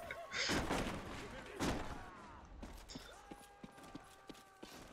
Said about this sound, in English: Let me bring my horse inside